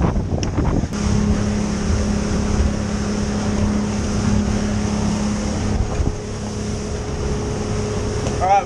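A motorboat engine drones steadily at speed, with wind rushing across the microphone and water noise beneath, loud and close throughout.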